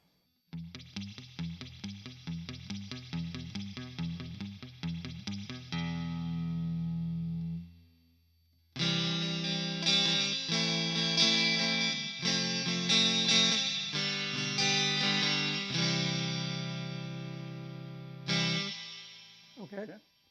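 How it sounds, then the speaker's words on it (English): Electric guitar through a reverb pedal, drenched in wet, splashy, drippy reverb, picked notes ringing out, a pause, then fuller strummed chords with shimmering tails. "Getting the drippy reverb out of the first one."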